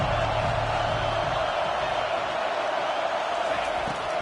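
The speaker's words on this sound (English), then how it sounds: "Decibels rising as the crowd gets behind this defense on third down." A stadium crowd in the NCAA 25 football video game roars steadily on a third-down defensive stand, a loud, even wash of cheering noise with no clear voices.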